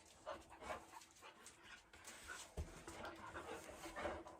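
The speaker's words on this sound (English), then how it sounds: "Now I have 2 dogs here saying hello." Dogs panting quietly and steadily, breathy and rhythmic, close by, with faint rustling and a small whimper in the background.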